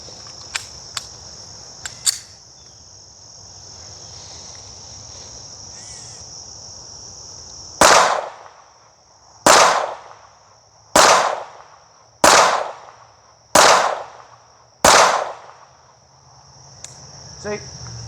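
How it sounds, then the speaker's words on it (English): Pistol shots from a Romulus 1K and a Staccato, six sharp, loud reports spaced about a second apart. A steady insect-like whine and a few small clicks run beneath them, and nobody speaks. "we're actually gonna shoot some more in depth and try and get a better feel for each gun"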